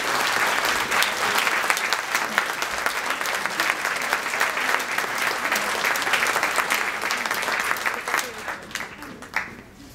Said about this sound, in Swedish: En stor applåd till för